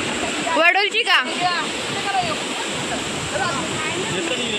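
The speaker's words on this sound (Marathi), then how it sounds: "धबधबा किती आहेत." A waterfall near a hill temple road roars as a steady rushing wash of water. People talk and laugh briefly over it at the start, then the water carries on alone.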